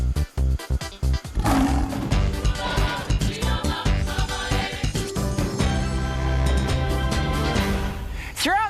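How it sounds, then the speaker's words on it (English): A lion roars in a wildlife documentary setting, deep and loud growling roars that swell and persist across the scene, mixed with dense rumbling and background noise. "Look at that lion."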